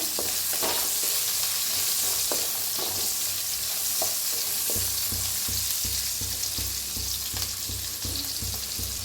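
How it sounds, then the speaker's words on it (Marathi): Cumin seeds sizzle in hot oil for a spice tempering, a steady close frying hiss broken by occasional stirring scrapes and taps. "तर आता जिरं छान अशी फोडणी बसलेली आहे।"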